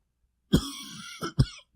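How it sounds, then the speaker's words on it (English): A few sharp, close coughs and throat-clearing bursts, separated by brief pauses, in an otherwise quiet room. "Sorry, audience, about the coughs."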